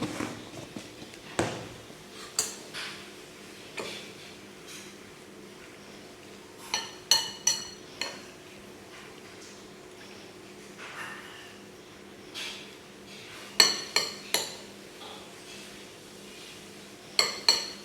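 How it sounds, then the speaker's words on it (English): Sugar being stirred into a bowl of home pickled cucumbers with a spoon: scattered light clinks and scrapes of utensil against dish, spaced irregularly with quiet gaps, close and fairly soft, no talking. "Now I stir it."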